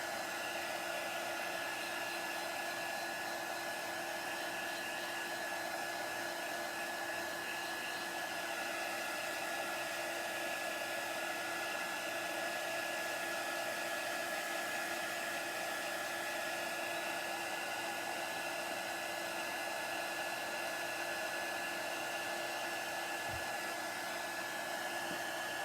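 A hair dryer blows continuously to dry a craft project, a steady, even whooshing hiss with a faint motor whine that holds unbroken at a constant level throughout.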